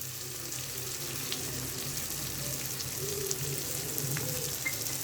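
Biryani masala and tomatoes sizzle and fry in hot oil in a pan, a steady continuous crackle with light faint clinks, no voices over it.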